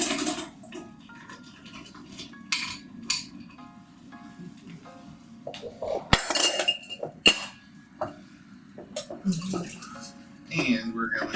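Ice is scooped for an Alexander cocktail made with heavy cream: scattered clinks and clatters of cubes against metal and glass, close and sharp, with talking between the sounds.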